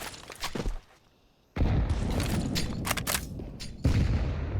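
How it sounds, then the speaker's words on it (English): Grenades detonate mid-map on Dust2 during a competitive Counter-Strike match, a few loud booming blasts with a brief quiet gap, followed by more crashing bursts and gunfire-like cracks. "Nades exchanged in mid."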